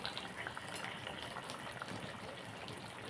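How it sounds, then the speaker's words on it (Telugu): Water pours steadily into a cooking pot of fish tamarind curry with a soft, continuous splashing gush, close by and fairly quiet, with no talking. "కొన్ని వాటర్ వేసుకుందాం"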